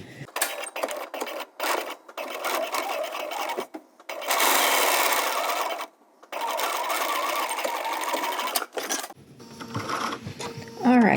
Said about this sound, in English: I'm just going to come and do a straight stitch across here.